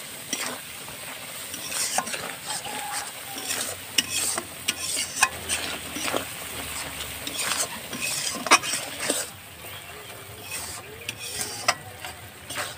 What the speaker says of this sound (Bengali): জল দিয়ে ভালো করে কষিয়ে নেব মশলাটা